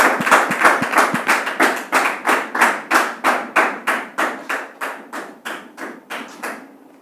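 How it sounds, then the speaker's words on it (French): Studio audience clapping on a French talk show, a crowd striking hands in unison to a steady rhythmic beat, about two dozen loud, evenly spaced claps that slowly fade before stopping. "Nous allons recevoir avec les applaudissements du public."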